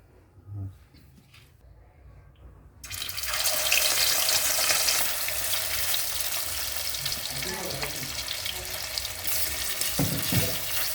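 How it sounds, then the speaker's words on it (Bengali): Rohu fish pieces rubbed with salt, chilli and turmeric go into hot mustard oil: a quiet kitchen suddenly erupts into a loud, sustained sizzle that keeps crackling to the end, with faint clatter. "মাছটা নুন দেওয়া আছে, এবার আমি লঙ্কা আর হলুদ মাখিয়ে ভাজবো।"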